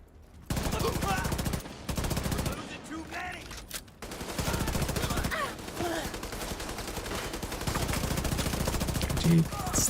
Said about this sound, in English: Gee, stop shooting me.